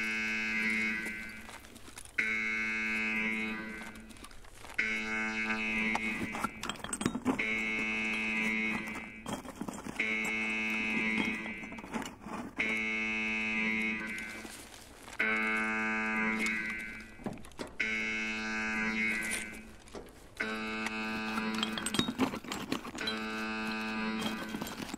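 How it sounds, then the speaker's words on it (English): A harsh electronic buzzer in the shooter game Escape From Tarkov sounds in a repeating cycle of loud, tonal buzz bursts about two seconds apart, separated by short gaps, with faint background game noise. "The most annoying buzzer in the world, you know?"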